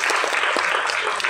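Audience clapping at a Tamil film audio launch event for the movie Ram Abdulla Antony, a dense, steady burst of applause from a crowd filling the hall.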